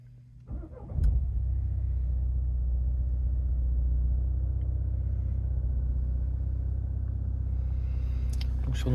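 Renault Megane 1.5 dCi diesel engine with 82,800 km cranking briefly, catching, then settling into a steady, close, loud low diesel idle that runs on unbroken, heard from inside the car with no talking.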